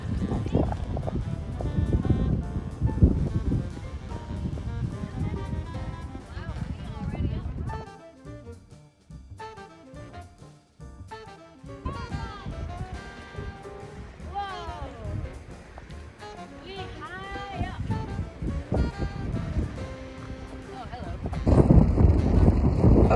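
Strong gusting wind buffets the microphone on a mountaintop at the top of a long stair climb, roaring loudly and then easing in the middle before surging again, with people talking at times.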